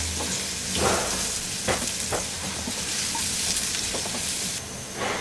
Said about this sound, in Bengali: একটা পাত্রের মধ্যে তেল গরম করে তার মধ্যে একটু পেঁয়াজ রসুন দিব। দিয়ে এইটাকে একটু ভাজবো।